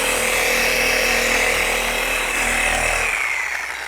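A 3401 polisher buffs car paint on a classic car, a loud, steady high whine that runs throughout and tapers slightly at the very end.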